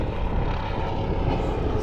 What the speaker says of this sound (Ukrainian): Вертольот якийсь летить.